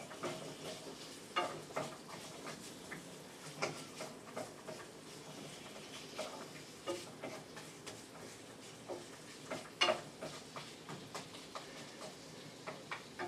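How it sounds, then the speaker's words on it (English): Carrots being stirred in a pan while cooking beef over rice, soft scraping and tapping of a utensil at an irregular rhythm over a quiet, faint sizzle, with no talking. "going to go ahead and throw in my carrots. And then I'll just mix them around a little bit."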